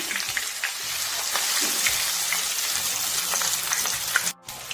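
Chicken pieces fry in hot oil with curry leaves for chicken pori, a steady close crackling sizzle with scattered pops that runs throughout and drops out briefly near the end.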